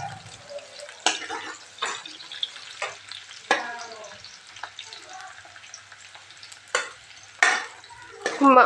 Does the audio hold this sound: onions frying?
yes